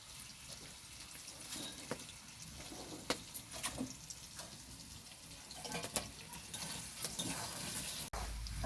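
Potatoes frying in hot oil in a home kitchen pan, a soft steady sizzle with faint stirring scrapes and clinks, quiet and close with no talking.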